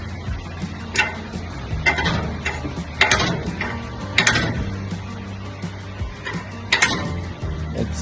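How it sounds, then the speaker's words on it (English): A jack lifts a vehicle's differential on a camping trip, with a series of ratcheting clicks and metallic clunks arriving in uneven bursts, close and fairly loud. "That's me lifting your whole diff."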